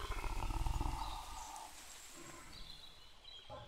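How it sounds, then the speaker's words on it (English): A lion roars loudly and close in a short rumbling burst at the start, then the sound fades into a quieter, rough animal growl with faint background noise. "Please, I'm trying to sleep, roared the lazy lion."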